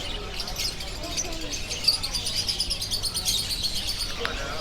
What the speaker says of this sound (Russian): Цыплятки.